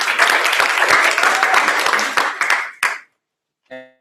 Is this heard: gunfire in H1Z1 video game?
no